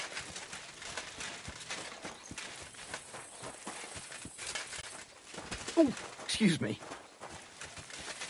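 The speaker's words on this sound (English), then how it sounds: "My, what a beautiful horse." A horse in the game Kingdom Come Deliverance 2 gives a few soft hoof clops and stirrings, mostly faint beneath ambient outdoor noise, with a brief voice speaking and a louder snort-like burst near the end.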